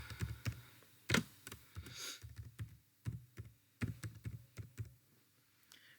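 Rapid typing on a computer keyboard while entering text in CorelDraw, with irregular bursts of close, crisp key clicks and a few heavier keystrokes over about six seconds of an otherwise quiet room.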